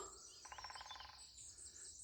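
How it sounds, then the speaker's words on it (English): A quick, rapid woodpecker drum roll of under a second rings out among outdoor birdsong and chirps in woodland on Scotland's West Highland Way, fairly distant. "We're going to hear a woodpecker."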